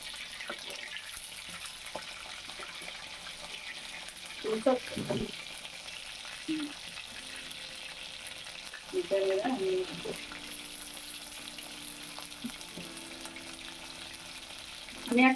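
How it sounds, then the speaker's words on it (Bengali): Chicken pieces fry in oil in a pan with a soft, steady sizzle, broken by a few louder scrapes and stirs as pieces are turned; no talking. "আমি এক পিস উল্টিয়ে দিচ্ছি, আর এক পিস ভালোভাবে একটু ভাজা হোক, তারপরে আমি উঠিয়ে নেব।"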